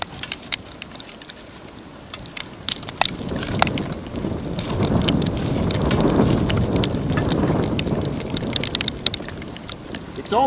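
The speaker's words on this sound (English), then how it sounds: "It's almost like a rain, guys, like a freezing rain kind of thing" Freezing rain falls on a winter campsite in Canada, a close, steady patter of sharp ticks and crackles over a broad rushing wash that swells in the middle and thins again.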